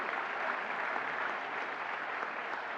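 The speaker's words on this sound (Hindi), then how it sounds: "आपके तालियों के जोश में कमी नहीं आनी चाहिए" A crowd applauds at a national handicraft awards ceremony, sustained thick clapping from many hands that holds steady from start to finish, louder and fuller, with no voices on top.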